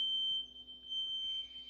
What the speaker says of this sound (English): Now this alarm is going haywire now, and there's no fire in here.